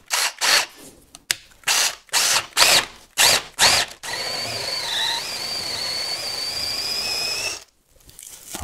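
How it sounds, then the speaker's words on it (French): A power drill bores a 10 mm hole for a bolt in a wooden cat ladder, starting with several short, loud bursts of the motor followed by a steady whining run of a few seconds that then stops. "Et ensuite, je percerai à 10"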